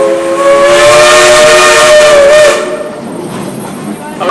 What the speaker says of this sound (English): It's wearing the Southern 3 chimes that whistle up ahead.